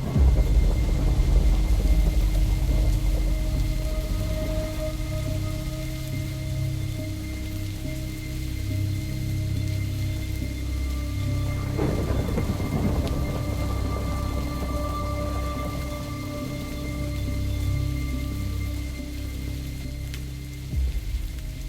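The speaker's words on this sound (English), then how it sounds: "I did not know that a thunderstorm would soon be arriving" Steady rain pours down throughout a thunderstorm in a Minecraft game set in a Mongolian wilderness, with a constant close hiss and a brief rumble of thunder partway through.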